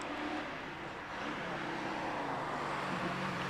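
A race car at the Prescott hill climb pulls away up the hill, its engine note droning steadily at moderate distance with no talk over it.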